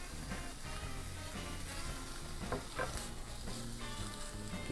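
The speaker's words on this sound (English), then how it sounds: "As you can hear, it's got a little sizzle." Steady, crackling sizzle of meat for carne guisada frying in a skillet on low heat, continuous and fairly close, with a few louder pops and scrapes.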